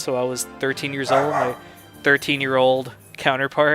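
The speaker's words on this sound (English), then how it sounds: "That's my dog, by the way." A pet dog barks and yips in several short bursts, mixed in with someone talking nearby.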